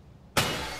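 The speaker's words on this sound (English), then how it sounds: "I need to break the glass." A sudden crash of shattering glass in a video game, loud and close, with a bright burst that rings out and decays over the remaining moment.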